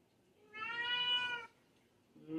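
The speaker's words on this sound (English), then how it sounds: "You hear Thumbs is crying." A single drawn-out cat meow close by, rising and falling over about a second, then a short start of another cry; no talking.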